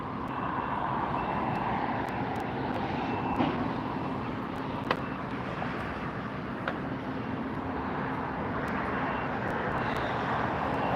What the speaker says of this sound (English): Taxiing in now, looks like we have Sun Country.